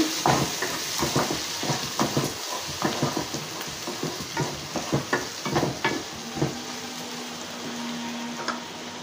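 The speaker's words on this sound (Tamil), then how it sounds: "இப்போ வெங்காயம் நல்லா வதங்கியாச்சு" Onions sauté in a pan for fried coconut chicken, a steady loud sizzle broken by repeated scraping stirs close up, with no voices.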